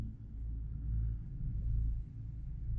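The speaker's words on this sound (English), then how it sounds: "Ben heard the engine of the Tacoma fire up and drive away" Toyota Tacoma pickup truck engine running with a steady low rumble that swells slightly as it pulls away, heard muffled from indoors with no voices.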